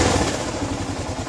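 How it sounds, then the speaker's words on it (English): A Kawasaki KLR650 motorcycle idles steadily after a carburetor cleaning, its single-cylinder engine producing an even, close, loud chugging rumble with a fast regular pulse and no surging or talk. "The idle is perfect. It's not jumping around."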